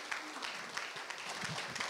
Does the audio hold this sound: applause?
yes